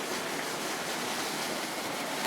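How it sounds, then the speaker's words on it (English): Water pumped up at a levee, a steady broadband rush and splash holding at one level throughout with no pauses, fairly near and alone, with no voices. "you'll see where the pump is pumping the water that's coming up"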